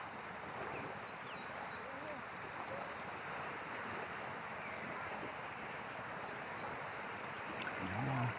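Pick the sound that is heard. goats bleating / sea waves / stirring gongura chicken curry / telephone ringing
sea waves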